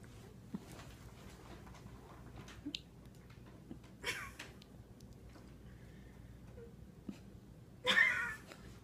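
A pet cat indoors gives a couple of short meows, one around the middle and a louder one near the end, over quiet room tone with a few faint clicks.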